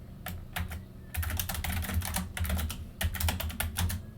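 Fast, steady typing on a computer keyboard while entering Cisco router configuration commands, quick clustered key clicks with brief pauses, close and fairly quiet, no voices.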